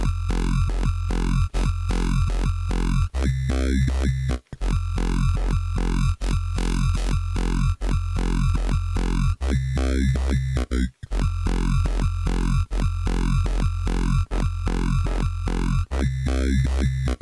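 A distorted dubstep synth bass plays in a repeating rhythmic pattern, an LFO pumping the compressor dry/wet to give sharp wobbling, gated pulses with brief gaps between phrases, loud and alone.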